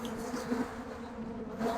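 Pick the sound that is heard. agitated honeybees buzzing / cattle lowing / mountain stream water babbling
agitated honeybees buzzing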